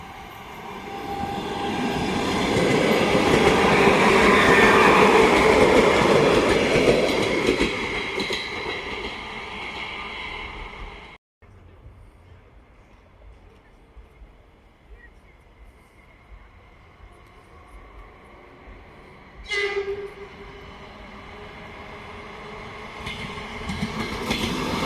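A train rolls close past a new railway station at Bērnu slimnīca, loud and rumbling for about ten seconds, then cuts abruptly to quieter rail noise with a sharp clank and faint clatter.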